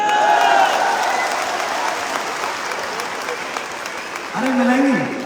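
An audience at a large stage show applauds steadily throughout, a dense, even wash of clapping with crowd noise, as a voice speaks briefly near the end.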